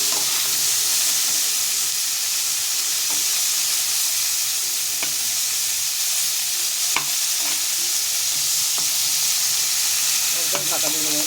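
Cauliflower florets stirred and fried in a pan over a gas flame give a steady, close sizzle, with scattered scrapes and clinks of a spatula against the pan throughout and no talking.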